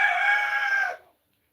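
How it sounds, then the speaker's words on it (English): A single rooster crows close by, one sustained strained call that cuts off sharply after about a second, followed by silence. "these roosters are something else right now"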